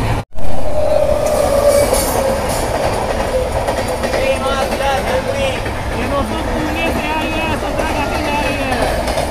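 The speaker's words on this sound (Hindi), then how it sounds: "पुणे संतरागाछी एक्सप्रेस देखिए हमारी ट्रेन जा रही ब्रिज पे।" The Puri-Santragachi Express crosses a bridge with steady rumbling wheels, rhythmic clatter and squealing metal. The sound is close and continuous, and someone talks over it.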